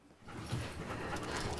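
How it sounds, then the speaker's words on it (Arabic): A German-breed dog sounds close by with soft panting and faint whimpering noises over a steady low indoor background, with no speech. "سالي مش ممكن تنسجم الا مع كلب ألماني زيها"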